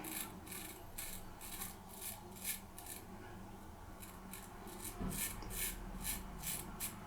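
A C.V. Heljestrand lather-catcher straight razor scrapes across lathered stubble in a run of crisp, rhythmic rasping strokes, close up and fairly quiet, with no talking.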